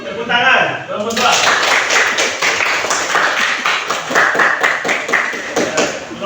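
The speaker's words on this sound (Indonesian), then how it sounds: "Tepuk tangan." A classroom group claps after a student presentation in an Islamic religious education teacher training session, quick irregular hand claps close by, mixed with a voice speaking over them.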